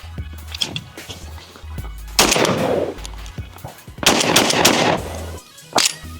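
A Benelli M4 tactical shotgun fires several loud, sharp blasts at uneven intervals, each followed by a brief ringing tail, with faint handling noise between shots.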